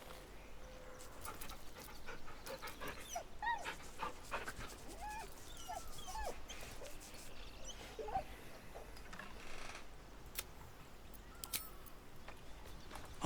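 A dog in Baldur's Gate 3 whimpering and panting, with quick breathy pants and thin high whines repeating over a low ambient bed, fairly quiet and close.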